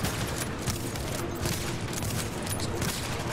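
Sustained heavy gunfire in the shooter The Division during a co-op firefight, a dense continuous rattle of overlapping shots with no talking.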